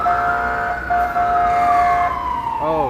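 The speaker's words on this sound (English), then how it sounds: "There's a police car." A police car siren wails loudly on a New York City street, a steady high tone cut briefly and then bending downward, with busy city noise underneath.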